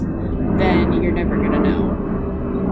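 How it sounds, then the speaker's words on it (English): A steady low roar of a plane passing overhead, running continuously beneath a person speaking close by. "Sorry for the plane flying over the head right now"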